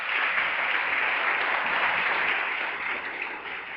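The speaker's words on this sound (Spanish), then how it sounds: "¿Cuántos le aplauden al Señor?" Sustained applause from a church congregation, a dense wash of clapping that holds steady and fades slightly toward the end.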